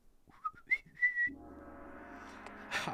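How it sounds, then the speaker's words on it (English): A person whistles a short rising-and-falling tune of several clear notes, then a steady background hum and game sounds take over from a Link Between Worlds play session. "I probably shouldn't whistle because that's probably loud as fuck."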